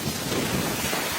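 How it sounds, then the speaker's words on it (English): A storm over Arizona with heavy rain and violent, hurricane-force winds, heard as a dense, loud, constant roar of rain and wind noise with a low rumble beneath it. "Heavy rain and violent winds once again swept across Arizona"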